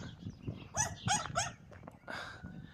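A Rottweiler barks three or four times in a quick burst at moderate distance in a small village, followed by a fainter bark, with quiet background noise.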